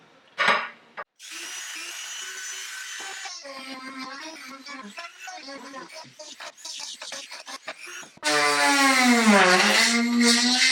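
Power drill boring a hole into a Hawaiian sling spear shaft, a whirring motor with changing pitch, loud and close, rising to a strong high whine near the end.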